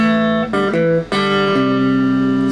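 An electric guitar plays a fast riff as a quick run of sustained, bright notes with a few abrupt note changes, close and clear with no talk.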